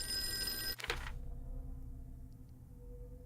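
An old-fashioned telephone bell rings in the Call of Cthulhu video game, a buzzy ring that stops abruptly partway through and leaves a low, murky room ambience.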